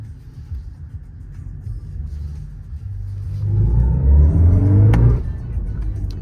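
A 2024 BMW i5 electric car accelerating briefly with its synthetic drive sound, a rising hum and rumble that swells over about two seconds inside the cabin and then cuts off abruptly.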